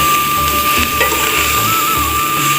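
Onions frying in a pan with a constant loud sizzle, overlaid by rhythmic low scraping strokes of a stirring utensil, close up and with no talking.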